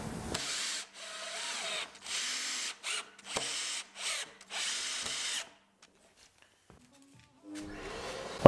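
A power drill drives screws into an antique pine bi-folding window shutter being glued and assembled, in several short close whirring bursts separated by brief pauses, then a stretch of near silence before a final faint burst.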